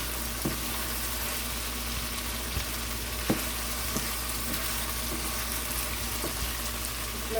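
Food sautés in a pan with a low, steady sizzle and a few faint clicks of a utensil, quiet and continuous.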